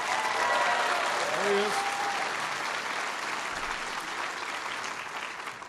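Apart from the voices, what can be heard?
audience applause for the university president at a town hall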